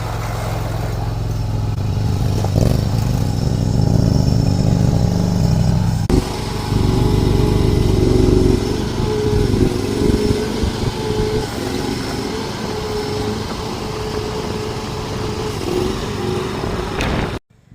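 A skid steer loader's engine works while moving topsoil in a backyard garden: a loud, continuous diesel drone that shifts in load now and then and cuts off abruptly at the end.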